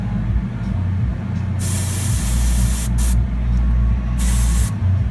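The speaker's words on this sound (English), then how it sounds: "a lot of this is just air shooting out. And the reason for that, as it's coming out of the gun" An airbrush spray gun sprays paint onto a 1/64 scale 2002 Chevrolet Silverado model truck in sharp hissing bursts, three distinct blasts of air separated by pauses, over a low steady compressor hum.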